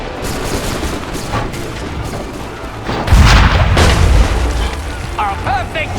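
Musket gunfire in Assassin's Creed III, a heavy booming volley that swells midway with smoky crackle, amid a battle din and voices talking in the background.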